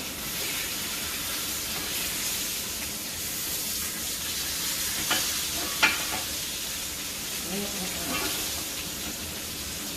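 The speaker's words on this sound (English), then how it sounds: "Okay, we're gonna flip it again." A tomahawk steak sizzling in a pan, a steady loud hiss and crackle of frying fat with a soft clatter as the meat is flipped.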